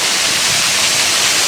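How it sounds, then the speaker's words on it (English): A waterfall at Champney Falls roars as a steady, dense wash of broadband water noise, close and constant with no pauses and no voices. "there's the waterfall"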